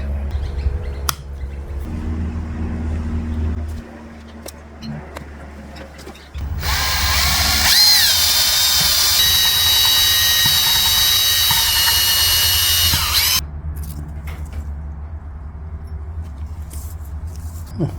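A power drill whines loudly for several seconds in the middle, close up, while working on a 1988 GSXR 750 motorcycle, with quieter mechanical background noise before and after.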